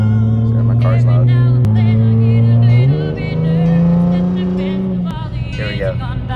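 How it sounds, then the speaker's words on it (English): A loud car engine rumbles close by in a steady, low drone, shifting pitch a few times as it accelerates, while a person talks over it. "Sorry, my car's loud."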